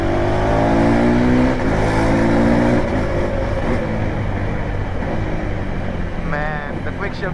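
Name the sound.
KTM 390 Adventure motorcycle accelerating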